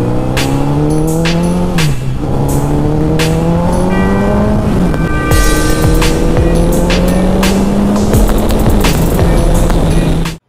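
A Suzuki Hayabusa motorcycle ridden with a slipping gear, its engine loud and close, droning at a steady pitch that rises in long sweeps and drops sharply between shifts over continuous road and wind roar.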